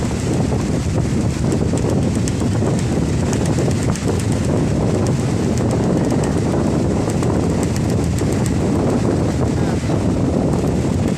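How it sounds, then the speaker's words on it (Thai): Strong night wind at Jomtien beach, Pattaya, with approaching lightning: a loud, steady roaring rush of wind buffeting the microphone throughout, no voices. "ลมแรงมากๆค่ะ"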